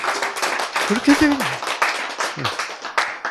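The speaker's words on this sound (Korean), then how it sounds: "제가 한 말씀을 듣고 박수를 치셨지만" An audience at a lecture applauding, a dense wash of clapping over a few seconds while someone speaks over it.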